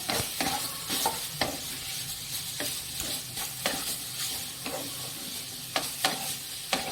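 Grated carrots and semolina fry in a pan for carrot halwa, with a constant sizzle under regular sharp scrapes and taps of a spoon against the pan, close up and with no one speaking.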